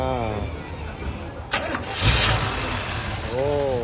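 A hot rod's engine cranks and catches, then settles into a smooth, steady idle at a car show, with people talking nearby over the rumble.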